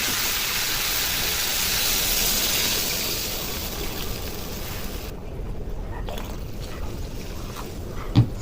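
Water poured into a hot potato curry hisses and gushes loudly, then the rush settles into a quieter simmering bubble, with a sharp knock near the end.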